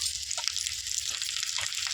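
Curry leaves sizzle in hot oil for an Andhra sambar tempering, a steady bright hiss with small pops throughout, close and fairly soft.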